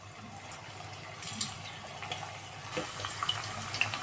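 Raw banana chips fry in hot oil with a continuous close sizzle and crackle that holds steady throughout.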